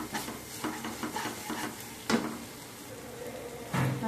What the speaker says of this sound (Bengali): এখন আমি দিয়ে দেবো কসুরি মেথি। দিয়ে আবার ভালো করে মশলাটাকে কষিয়ে নেব।